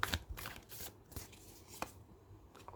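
Tarot cards being shuffled by hand, faint and close, with a few quick riffling bursts and soft flicks separated by brief pauses in a quiet room.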